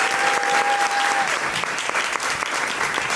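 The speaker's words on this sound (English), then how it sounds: "Please give them a big round of applause." An audience at an ISLA Academy TEDx-style talk breaks into loud, dense applause that continues without pause, with a brief high tone sounding at the start.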